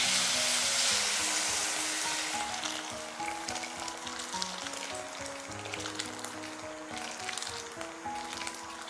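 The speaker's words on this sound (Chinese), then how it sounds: "炒至食材像这样滋滋冒油" Ingredients sizzle loudly in hot oil while being stir-fried for a century egg and tofu soup, a steady crackling hiss with stirring and the clatter of a spatula, strongest at the start and continuing with no talk.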